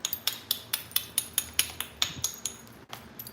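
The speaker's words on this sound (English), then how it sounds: "So just beveling the edge of this this coral here." Stone-on-coral knapping as the edge of a piece of coral is bevelled, a steady run of about a dozen sharp, bright clicking strikes at close range, evenly paced then pausing near the end, with no talking.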